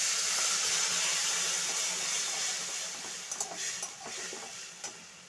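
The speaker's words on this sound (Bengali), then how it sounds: "এবার আমি পাতাটা একটু ভেজে নেব।" Gandhal leaves fry in a hot pan with a steady bright sizzle that eases slightly, broken near the end by a few soft stirring clicks, with no talking.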